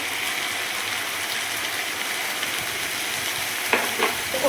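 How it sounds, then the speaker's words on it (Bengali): Cumin, chopped onion, ginger paste and garlic paste fry in leftover fish oil, making a steady, close hiss with a couple of brief scrape accents near the end; no one speaks. "মাছ ভাজার তেলেই আমি এবার জিরে ফোড়ন দিয়ে আমি পেঁয়াজ কুচিটাও দিয়ে দেব, আদা বাটা দিয়ে দেব, রসুন বাটা দিয়ে দেব"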